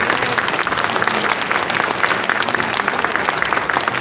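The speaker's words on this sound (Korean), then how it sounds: "크게 다시 한번 박수를 주시기 바랍니다" A congregation at an Independence Movement Day commemorative worship service gives loud, dense applause that holds steady from start to finish.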